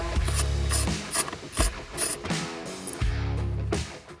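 A hand ratchet clicks in quick bursts while backing out 12 mm bolts from the factory jack mount in a Ford F-Series pickup, several close, crisp runs of pawl clicking separated by short pauses.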